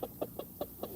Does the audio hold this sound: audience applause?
no